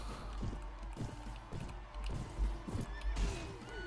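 Horses whinny and neigh amid a medieval battle in Mount and Blade: Warband, with several short calls and hoof clatter over a steady rumble of combat, fairly close and loud.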